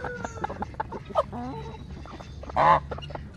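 Barnyard ducks give scattered honking calls and one loud, harsh squawk, close by, mixed with clucking fowl and other birds in the background.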